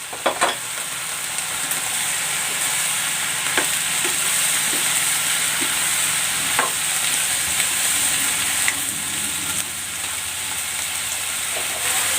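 Pieces of bottle gourd (upo) fry with mackerel in a pan, giving a steady, bright sizzle with occasional stirring scrapes and pops, close and continuous throughout.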